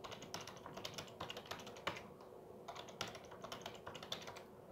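Steady typing on a computer keyboard while entering a wallet password, fairly quiet and close, with quick runs of keystrokes broken by a couple of brief pauses.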